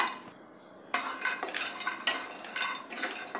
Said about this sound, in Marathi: आता आपण काजू बदाम भाजून घेत आहोत।